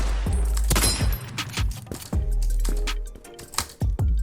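Rapid gunfire from the first-person shooter Krunker, played at 60 FPS with a Hunter rifle, comes as a string of sharp close cracks and thuds in quick bursts with brief gaps.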